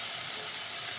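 Garlic sizzling in hot oil for a raw mango curry, a steady loud hiss with a fine crackling texture, close and unbroken, with no talk.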